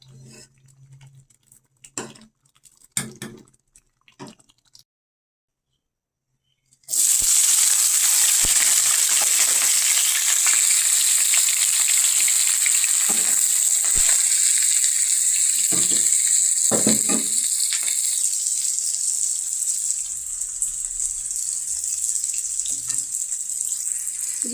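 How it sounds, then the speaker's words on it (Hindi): Tadka for thin daal bursts into a loud, steady sizzle as hot oil meets the pan, a continuous bright hiss that runs on after a few quiet clicks and knocks at the start, with faint stirring scrapes throughout. "अब हम इसके अंदर लगाएंगे तड़का"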